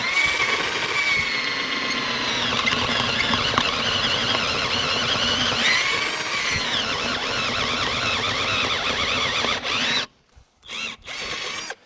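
A power drill whines loudly and steadily for about ten seconds, its pitch wavering under load, then cuts out into short bursts before stopping.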